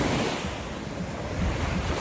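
Surf breaking steadily on Leela Beach at Kovalam, with a continuous low roar of waves and some wind buffeting the microphone, fairly loud and unbroken throughout.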